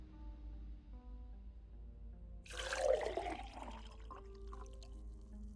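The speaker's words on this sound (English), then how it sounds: "Sounds like a glass of water." Water poured from a jerry can in the Autopsy Simulator video game, a gurgling, splashing pour that swells in the middle and tapers off, fairly close over a low steady hum with no talking.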